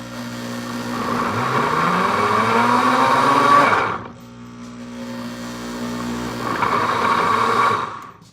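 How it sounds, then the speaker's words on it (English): A cooking blender making broccoli cheddar soup whirs loudly for about four seconds, stops briefly, then starts again with a high, steady motor whine. "I'm going to move that off to the side so you guys can see a little bit as to the power of our blender here"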